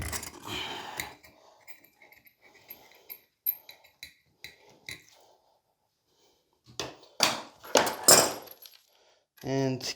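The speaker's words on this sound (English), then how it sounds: "We're just gonna unscrew this one." Toilet supply hose being unscrewed by hand, giving a series of small metallic clicks, ticks and scrapes, scattered and close, with louder handling rattles near the end.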